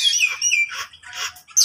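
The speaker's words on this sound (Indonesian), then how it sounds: "Nih, seperti ini jalak Bali." A Bali myna calls from an aviary in front of a shophouse with a few loud, sharp whistled chirps and squawks, close by and repeated in quick bursts.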